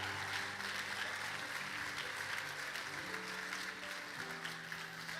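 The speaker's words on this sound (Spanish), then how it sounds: "Dele un aplauso al Señor por eso." A church congregation claps in steady, even applause that fills the whole stretch, moderately distant and continuous, with faint voices mixed underneath.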